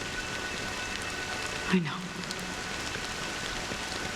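Steady rain patters and hisses in a game scene from Honkai Star Rail, a continuous wash of drops throughout with a short voice cutting in briefly near the middle.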